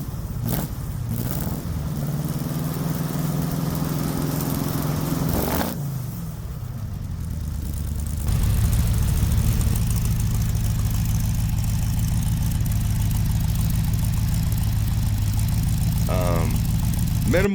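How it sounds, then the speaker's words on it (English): Mopar big block 400 V8 running on an engine stand, idling with a steady low rumble throughout, with a brief rise and dip in pitch partway through and some faint mechanical whine near the end. "Actually, it runs really good. We got idle set up."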